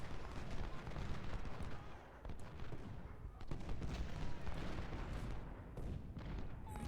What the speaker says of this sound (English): That's what these nice, huge, long-range rifle cannon are for.